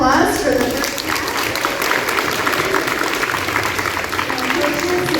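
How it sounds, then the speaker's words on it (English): Applause fills the room at a school quiz bowl competition, dense and loud continuous clapping from the audience with some crowd murmur, sustained throughout. "round of applause for the first half."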